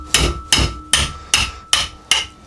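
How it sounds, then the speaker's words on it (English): Six sharp metallic hammer strikes on a front sprocket nut of a Triumph T140 motorcycle at a steady rhythm, each ringing briefly before the next, close and loud with no talk. "giving it a tap with a hammer"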